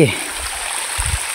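A steady wash of water draining out of a fish pond, like a stream running continuously, with a couple of low thumps underneath.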